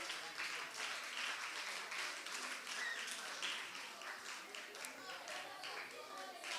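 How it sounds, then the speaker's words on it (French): Audience applause at a school students' journalism festival award ceremony, steady dense clapping filling the room for several seconds, with murmured voices mixed underneath. "Sous vos applaudissements"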